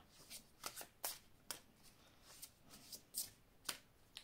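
Tarot cards handled and drawn from a deck, with a quiet series of crisp shuffling flicks and snaps coming at an uneven rhythm, close up.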